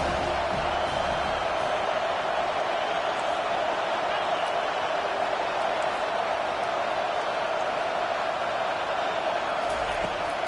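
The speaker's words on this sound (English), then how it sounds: "this crowd trying to help keep them there" Stadium crowd roar from an NCAA 25 college football video game, a steady dense wash of cheering that holds at a constant level throughout.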